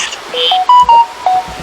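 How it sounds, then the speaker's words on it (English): A mobile phone gives a short run of loud, close electronic beeps and tones that rise and fall over about a second and a half, under a faint outdoor background near Pisgah Bridge. "That's my phone."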